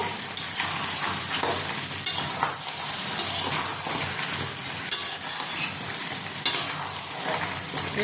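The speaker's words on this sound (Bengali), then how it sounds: "এবার এটাকে দিয়ে একটু ভালো মতন মিশিয়ে নেব।" Crab curry with a ground garam masala paste of cardamom, cloves and cinnamon sizzles in a pan while being stirred, a continuous close frying hiss broken by spoon scrapes and clinks.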